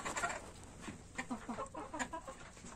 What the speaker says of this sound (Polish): Kogut zdenerwowany.